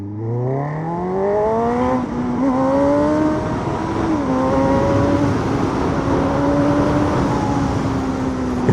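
A Honda CB1000 Hornet engine accelerates hard in first gear in sport mode, its pitch sweeping steeply upward and then holding a loud, high, steady whine close to the microphone.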